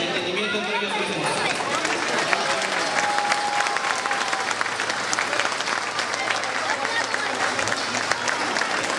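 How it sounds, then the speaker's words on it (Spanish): Crowd applause for a newly named committee at a San Jerónimo Zacualpan patron saint celebration in New Haven: sustained, loud, crackling clapping over nine seconds, mixed with crowd chatter and voices. "Démosle un fuerte aplauso y que Dios les dé fuerzas y entendimiento entre ellos mismos."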